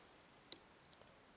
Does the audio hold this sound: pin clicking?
yes